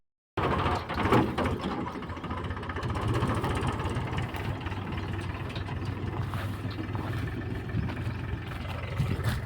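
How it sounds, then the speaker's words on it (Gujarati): A tractor's engine chugs steadily at a farm field where millet fodder is being loaded, a continuous mechanical rumble with rattling, clanking parts that stays fairly close and constant throughout. "ટ્રેક્ટર આવી ગયું છે"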